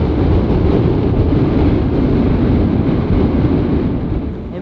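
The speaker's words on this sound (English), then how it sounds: "It's very windy." Heavy, constant wind buffets the microphone with a deep roaring rumble that barely lets up for the whole stretch.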